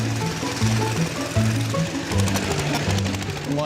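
A restored lawnmower engine runs steadily with a rapid, uneven chugging and knocking beat, close and loud, with some faint background voices.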